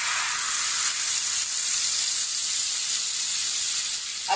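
A prepared spice paste hits a hot pan on a freshly lit stove, giving a steady, loud, unbroken sizzle and hiss throughout with no voices.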